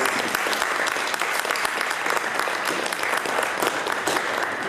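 Sustained audience applause for the staff at AliCon 2019, a pony fan convention, a dense steady wash of many hands clapping at even loudness for the full length, with no talk over it.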